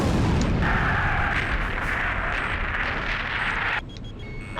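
Enemy artillery fire in the video game Ace Combat 5 rumbles as a loud, dense barrage of booms and blasts that churns continuously, then drops abruptly in level near the end.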